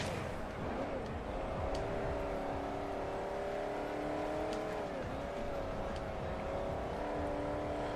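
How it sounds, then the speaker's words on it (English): A car engine in the Forza Horizon racing game revs steadily and pulls away, its harmonic drone holding near and loud with pitch dips and rises over about eight seconds. "Oh, the big engine starting to pull away."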